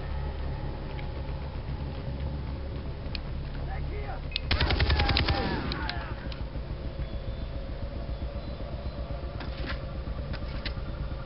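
Gunfire in the video game Far Cry 3, a short burst of rapid shots around the middle over a steady background hum of game ambience.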